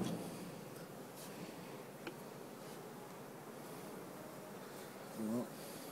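Honeybees buzzing around an open beehive, a faint, even drone that stays low and distant throughout, with one short louder burst near the end.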